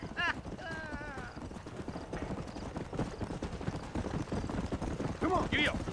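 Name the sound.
horse hooves clip-clopping while riding, from the video game Red Dead Redemption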